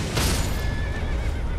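Torrent, the horse in Elden Ring, whinnies loudly in a single drawn-out neigh with faint hoof clops beneath it, inside the game's sound mix.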